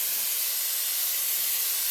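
A paint spray gun fed by an air compressor running at 70 psi gives a steady, loud, close hiss of rushing air throughout, with no pauses or talk.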